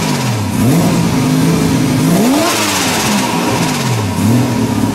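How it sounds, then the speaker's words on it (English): Mazda RX-7/RX-8 style rotary engine revving hard, a buzzy, angry-bee rasp that rises and falls in several quick sweeps, loud and close with no talk over it. "they use a rotary engine, which is why they sound like a swarm of angry bees."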